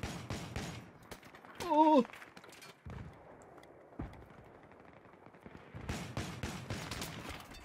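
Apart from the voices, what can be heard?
gunfire from the Battlefield video game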